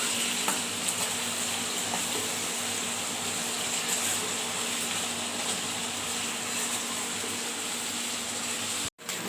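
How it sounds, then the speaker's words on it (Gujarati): Onions frying in a pan with a steady, crackling sizzle that holds evenly throughout, close and moderately loud, broken by a brief dropout near the end. "આપણી ડુંગળી સરસ તતળાઈ ગઈ છે"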